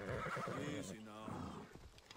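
A horse in Assassin's Creed Odyssey gives a clear, close whinny in the middle, preceded by hoof clip-clops, with a voice talking around it.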